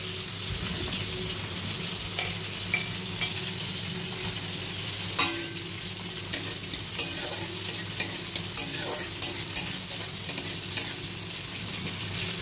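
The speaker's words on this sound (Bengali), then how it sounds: "গরম হয়ে গেছে, তার জন্য আমি ফোড়ন দেব তেলে" Four dried red chillies, six green cardamom pods and cumin seeds sizzle steadily in hot oil, with a constant hiss and scattered sharp pops and stirring clicks in the pan, close by.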